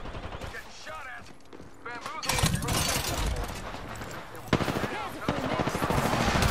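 Gunfire in the Apex Legends video game: loud rapid bursts of automatic shots crackle close by, with the firing growing denser after a quieter opening while a player talks over it.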